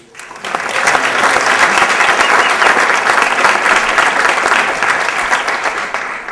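A chamber of commerce awards dinner crowd breaks into applause, rising quickly to a loud, steady roar of many hands clapping that continues for several seconds and tapers slightly at the end.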